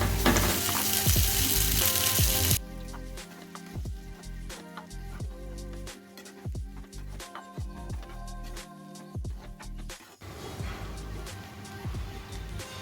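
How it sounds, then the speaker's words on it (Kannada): Strained vermicelli for upma being added and stirred in a hot pan, with a loud sizzle at first that settles into steady frying and repeated scraping strokes, no talking. "ಒಲೆಯಲ್ಲಿ ಸೋಸಿಟ್ಕೊಂಡಿರೋಂಥ ಶಾವಿಗೆನ ಆ್ಯಡ್ ಮಾಡ್ಕೊಳ್ತಾ ಇದ್ದೀನಿ"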